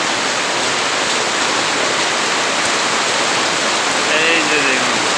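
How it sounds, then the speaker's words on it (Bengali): Heavy rain pours steadily in Bangladesh at night, a dense, loud and unbroken wash of falling water with no pause. "আমাদের এলাকায় অনেক বৃষ্টি হচ্ছে"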